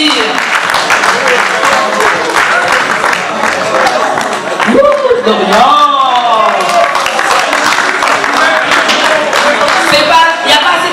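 Spectators at a Kinshasa fashion and couture show clap steadily throughout, while a presenter's amplified voice talks over the continuous applause.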